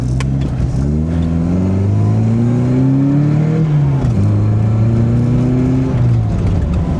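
A car running on SU carburettors accelerates hard from inside the cabin, its engine note climbing steadily in pitch through two long pulls with a brief dip between, loud and continuous with no talking.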